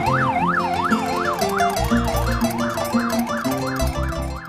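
A motorcycle tricycle ambulance siren wails loud and close in a steady rising-and-falling sweep, repeating continuously, with a low vehicle hum beneath it.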